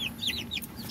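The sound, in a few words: young chicks clucking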